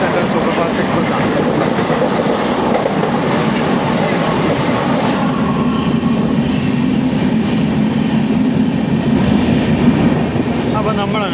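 Venad Express train running between Thiruvananthapuram Central and Shoranur, heard from on board as a steady, loud rumble of wheels on rails with faint clickety-clack throughout.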